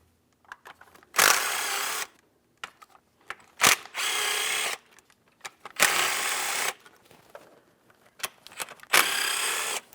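Power tool spinning off the valve cover bolts and hardware on a 2015-2025 Ford Transit 250 3.7L V6: four loud, close bursts of about a second each, with small clicks and clatter of parts between them.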